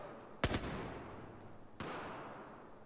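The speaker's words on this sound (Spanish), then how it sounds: "estoy oyendo solamente un disparo" Two gunshots ring out in the Battlefield 4 video game on PC, a sharp crack near the start and a second, weaker one later, each trailing off into quiet ambience.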